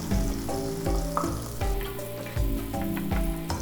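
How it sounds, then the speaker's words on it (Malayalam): Ripe plantain pieces fry in ghee for a Kerala sweet, a steady close sizzle broken by rhythmic scraping stir strokes about every second. "നല്ല പഴുത്ത ഏത്തക്ക ചെറുതായിട്ട് കട്ട് ചെയ്തിട്ട് ഈ നെയ്യിലൊന്ന് നന്നായിട്ട് വഴറ്റിയെടുക്കുക."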